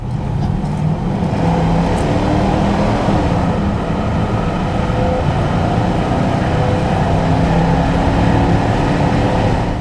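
A 1996 Chevrolet Suburban 4x4 with a 5.7 engine is driven on the road, giving a loud, steady cabin rumble of engine and road noise with no talking.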